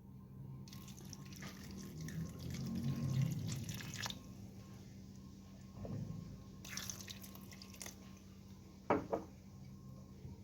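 Water runs and drips onto stale bread in a large bowl in a home kitchen, quiet trickling and splashing with occasional clinks of dishes, no talk.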